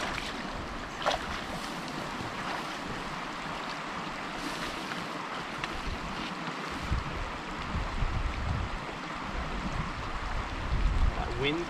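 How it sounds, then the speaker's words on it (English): Wind blows outdoors beside a crystal-clear stream during fly fishing, a steady broad rush mixed with flowing water that swells slightly toward the end. "That wind's kicking in too."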